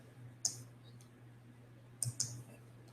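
Sharp, close key clicks from a computer keyboard pressing F11, one isolated tap then a quick pair a moment later, quiet over a faint steady electrical hum.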